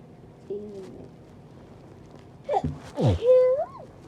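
A loud breathy sneeze bursts out in two sharp explosive gasps, followed by a rising whimpering vocal sound, after a brief faint voiced noise earlier in the quiet room.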